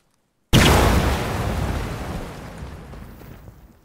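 A Fakel flashbang stun grenade detonates in ARMA 3, one sudden loud blast after brief silence, then a long rumbling decay that fades over several seconds.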